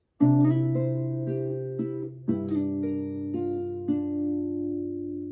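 An acoustic guitar is fingerpicked softly and up close, playing a song's intro, notes overlapping into ringing chords that sustain and slowly fade, with no talking.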